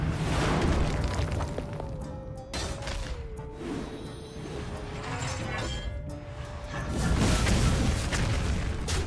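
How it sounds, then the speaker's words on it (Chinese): A bomb blast in the Hearthstone card game, a loud booming burst with rumbling crash and mechanical clanks, swelling again near the end over game music. "我有炸弹要炸你"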